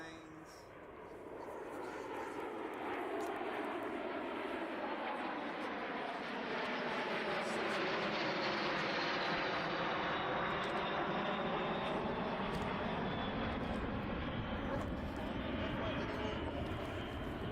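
L-39 jet aircraft arriving at Oshkosh on runway 36, a sustained loud engine roar that swells and sweeps as it passes, with people talking nearby over the noise.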